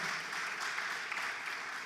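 A congregation at a Spanish-language church service gives a dense, continuous round of applause, heard fairly faint and distant, with no speech over it.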